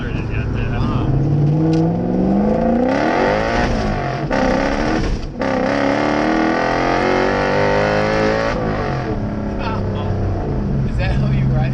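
A drift truck's engine revs hard and accelerates, loud and close from inside the cab, climbing in pitch through the gears with a brief dip mid-run, while people talk and exclaim over the roar.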